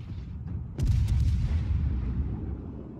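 Naval shells firing in the World of Warships video game, one deep booming salvo that swells suddenly and rolls on with a low rumble, over quiet background noise.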